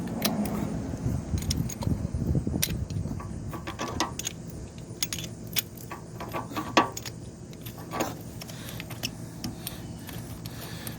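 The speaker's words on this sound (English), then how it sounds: "So let's pop the second plug out." Metal tool clinks and scattered ticks come from pulling the second spark plug out of a Suzuki DR650 motorcycle engine, a steady run of light, close jangling taps over a low background hum.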